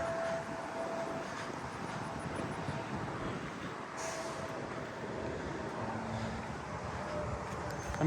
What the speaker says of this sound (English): And I see a gust of wind coming.